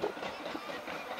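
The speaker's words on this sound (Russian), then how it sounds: "Такие вот поезда" A small train rumbles past at a distance in Sayama Park, Japan, on a windy day, a steady low roar with faint rattling, lasting only a moment.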